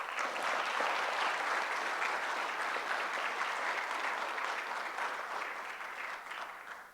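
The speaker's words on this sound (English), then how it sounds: "Another round of applause for our class of" Sustained applause from a large crowd at a university graduation ceremony for the class of 2016, a dense wash of clapping that holds strong then slowly tapers off at the end.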